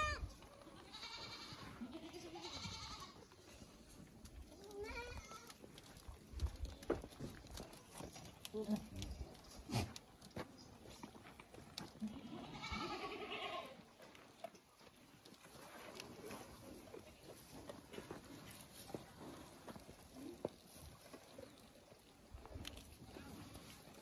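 Osmanabadi goats bleating on a farm in Parbhani, Jintur, scattered calls from several animals against a busy background of shuffling and hoof clatter, fairly faint and spread out, with some voices mixed in.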